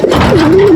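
A racing pigeon in the flying room gives one brief, close, loud coo.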